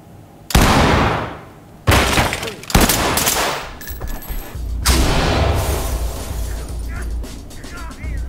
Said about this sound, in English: Blow the lock. Deploy flashbangs and clear.